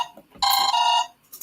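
An incoming phone call rings on a talk show, a single bright electronic ring tone, loud and close, ending abruptly.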